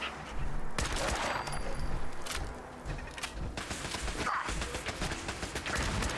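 Turrets in the video game Fallout 4 fire a dense, rapid fusillade of gunshots that keeps up without a break, loud and close amid other game noise.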